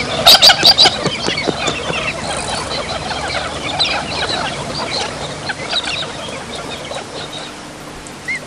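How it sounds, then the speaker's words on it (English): Pink and grey galahs, gregarious seed-eating cockatoos, give loud harsh screeching calls at the start, followed by softer scattered chirps and calls from birds nearby. "the pink and grey galah, a gregarious, noisy, seed-eating cockatoo, which usually occurs in large flocks"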